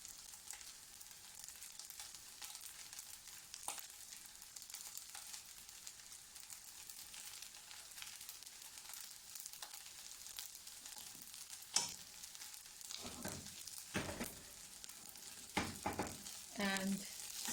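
Egg fried rice with sauce being stirred in a pan, a faint continuous frying hiss with occasional soft scrapes of stirring, growing busier toward the end.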